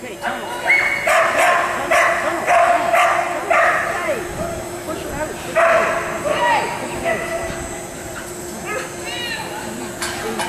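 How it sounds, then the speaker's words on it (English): A small dog barks in short, sharp bursts, several yips in a row, fairly close, with a person talking intermittently. "I love my little Faithy dog."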